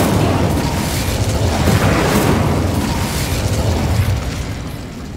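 A fire spell is cast in the Hogwarts Legacy video game, giving a loud, roaring burst of flame that sustains densely for several seconds before easing off slightly.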